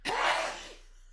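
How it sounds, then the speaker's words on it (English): A man sneezes once, close to the microphone, a sharp breathy burst that fades quickly into silence, with no talking during it. "John just sneezed on the show for the first time"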